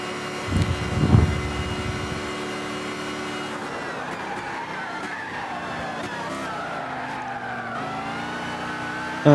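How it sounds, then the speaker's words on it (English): A race car crashing at the pit lane entry during qualifying practice for a 24 Hours of Daytona GTP endurance racing video game: a short rough impact and skid, followed by a steady droning engine. "And Santu crashes in the pit lane entry as well"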